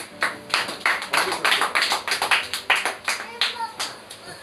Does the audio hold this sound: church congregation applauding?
yes